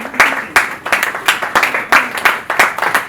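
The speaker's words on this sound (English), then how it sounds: "A round of applause for them." Audience applause at a talk on the coconut value chain, with sparse, rhythmic claps in loud bursts roughly every half second, close and dry, no voices.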